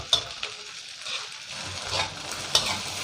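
Chinese sausage fried rice with egg being stir-fried in a pan over medium heat, a steady close sizzle broken by a few sharp scrapes and clinks of the spatula, with no talking.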